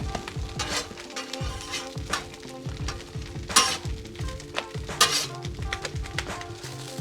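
Flour tortillas heating on a Blackstone griddle at low heat, a close, steady sizzle with repeated soft scraping and pressing strokes in an uneven rhythm.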